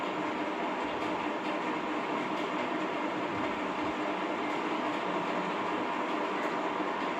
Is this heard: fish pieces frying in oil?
yes